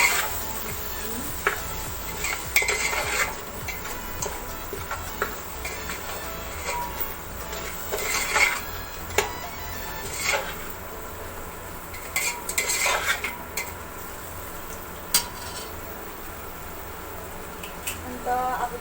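Chicken biryani being stirred in a pot, with intermittent scraping and clinking of a utensil against the pot over a steady background, irregular in rhythm and moderately close.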